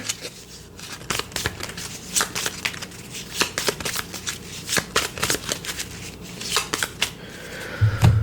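Cards are shuffled repeatedly nearby, producing quick riffling bursts and soft slaps in an uneven rhythm, with a light thump near the end.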